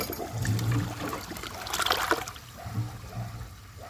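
An American Standard Homestead VorMax toilet flushes a washcloth and a grocery bag, a loud rushing surge of water that swirls and trickles down near the bowl, then fades to a lighter gurgle.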